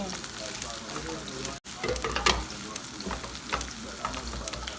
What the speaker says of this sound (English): add the noodles, the boiled cooked noodles, and stir fry it really well for about 5 minutes